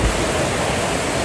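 Floodwater rushes after days of heavy rain in Dien Bien, Vietnam, a loud, continuous broadband roar of fast-flowing water with no voices.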